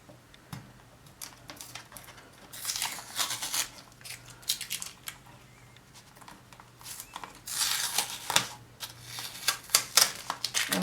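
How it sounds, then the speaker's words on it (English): Masking tape crackles and rips in short bursts as it is peeled off a Cricut cutting mat, close and fairly quiet, with small clicks and handling noises between pulls. "I'm going to go ahead and peel off my masking tape."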